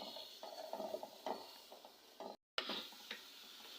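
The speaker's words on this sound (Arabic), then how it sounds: "شوحتها في البصل والثوم وحطيت طماطم" Onion, garlic and tomatoes sauté in a pan with okra and chicken, a quiet sizzle under repeated stirring scrapes and clinks of a utensil, one brief dropout partway through and no talk.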